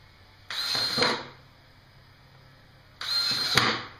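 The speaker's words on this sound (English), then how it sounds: "I'm going to go ahead and start drilling these holes" Two separate bursts of a whining power drill biting into a plastic lid, each lasting about half a second, with quiet pauses between them.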